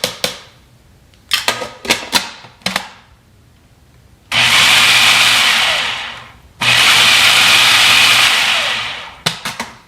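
Food processor blending pesto in two long, loud whirring runs of a few seconds each. Short bursts of clicks and taps from the machine come before, between and after the runs, close up with no talk.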